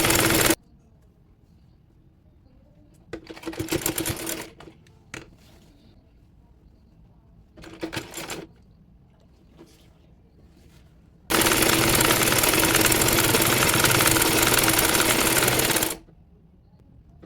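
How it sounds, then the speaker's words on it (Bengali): A sewing machine stitches a baby nightie in loud, close bursts: two short runs with pauses between them, then a longer continuous stretch of rapid whirring. "এবার চাপ সেলাই দিয়ে নিচ্ছি।"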